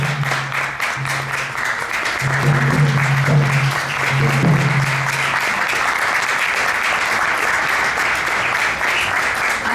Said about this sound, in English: And so just another big round of applause for you.